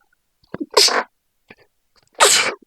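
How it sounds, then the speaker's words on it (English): One person sneezes twice in a quiet room, each sneeze a sharp, close burst preceded by a short intake of breath, with the two about a second and a half apart. "sorry for sneezing"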